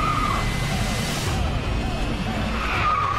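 A jet car skidding in a video game: a loud, sustained roar of engine and tire squeal with sliding pitch sweeps, close and continuous, while voices speak over it.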